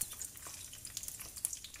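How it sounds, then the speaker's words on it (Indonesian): Wagyu-filled risoles deep-frying in hot oil until crisp and golden, a steady close sizzle with scattered bright pops and crackles, no voices. "Goreng sampai garing kecoklatan."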